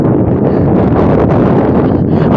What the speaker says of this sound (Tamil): இந்த இடம் வந்து காற்று நல்லா சிலு சிலு சிலுன்னு அடிக்கும்